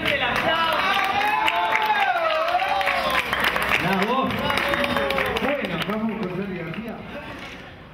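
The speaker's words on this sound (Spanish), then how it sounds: "¡Fuerte el aplauso! ¡Bravo!" Audience applause at a cooperative gathering at the José T. Borda hospital, a steady spread of clapping running under prominent voices and cheers that fades toward the end.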